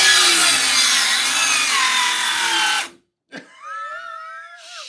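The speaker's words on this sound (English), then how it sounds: "this is the new saw, new battery" A Ryobi cordless saw cuts through wood loudly and steadily for about three seconds, stops abruptly, then a brief restart and a whining spin-down follow.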